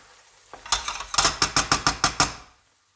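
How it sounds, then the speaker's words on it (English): Garlic stirred through food in a pan with a utensil, making a run of about eight evenly spaced scraping clatters against the pan, close and clear, with no talking. "Stir the garlic through."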